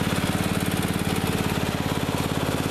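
A Craftsman riding lawn mower's engine runs steadily at close range, its rapid, even putter churning without pause under a broad, rough mechanical roar.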